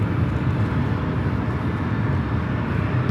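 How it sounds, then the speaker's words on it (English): An American Airlines Airbus A319 airliner taking off at LAX, a steady, loud broadband jet roar that holds constant throughout without any talk. "That is American Airlines 2522 taking off to Tampa,"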